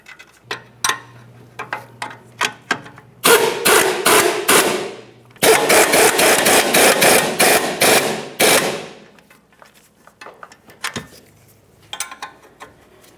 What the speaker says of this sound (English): Start on each one of your 19mm nuts. Once they're started, you can snug them up.